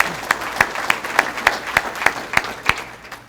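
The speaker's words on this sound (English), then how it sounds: "Round of applause for that." Applause at a business luncheon comes across as about ten evenly spaced, crisp claps in a steady rhythm, close and fairly loud over faint room noise.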